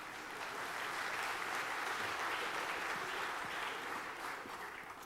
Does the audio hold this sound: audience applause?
yes